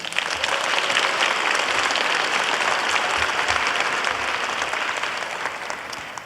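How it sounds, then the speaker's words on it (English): At a formal school board meeting, a standing audience of teachers and family members applauds honored students with loud, sustained clapping that stays full throughout and eases off slightly toward the end. "please stand and give them a round of applause"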